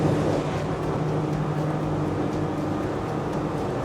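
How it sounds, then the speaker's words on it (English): Twin outboard engines on a Saxdor 340 GTWA boat drone steadily at high speed near 59 mph on a sea trial, a loud continuous low roar with wind and water noise and no speech. "You can hear those engines increasing in"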